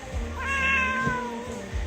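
A pet cat gives a single close, plaintive meow that swells and fades over about a second, heard indoors against a steady low room hum and a few soft bumps, with no voices.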